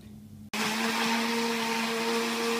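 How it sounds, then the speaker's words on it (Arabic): An electric blender switches on abruptly and runs at constant high speed, mixing crêpe batter of eggs, oil and butter with a loud, steady whirring drone close by. "عملت الخليط ده تقريبا عملته في الخلاط الكهربائي مدة دقيقتين"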